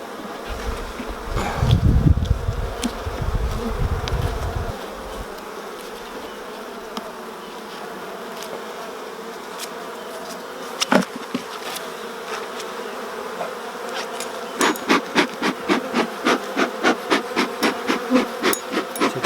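Agitated honey bees in an open hive during a frame inspection, a constant dense buzzing drone throughout, with occasional knocks and a run of rhythmic tapping near the end.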